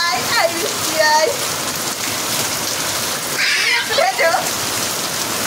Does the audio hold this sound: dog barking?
no